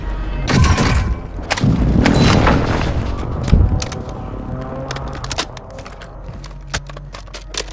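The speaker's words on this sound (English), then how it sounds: "Hostile airstrike near your location." Airstrike explosions in a video game land as a series of heavy booms and thuds, loud and close at first, followed by scattered sharp cracks and rumbles that thin out, with no talk heard.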